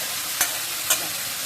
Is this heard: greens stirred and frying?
yes